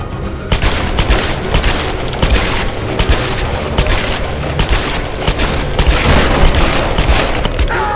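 Dual pistols firing in the video game Tomb Raider, loud rapid overlapping shots in a dense continuous barrage with booming impacts throughout, no speech.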